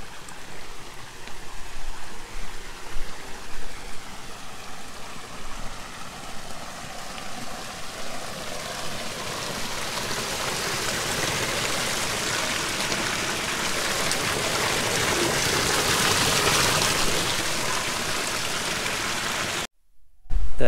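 Rain-fed water flows at Chitradurga Fort, a steady close rushing wash that grows slightly louder and brighter toward the end before a brief dropout.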